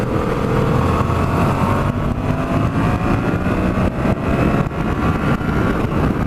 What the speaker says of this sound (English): I don't know how much of the wind you can hear, but there's a lot.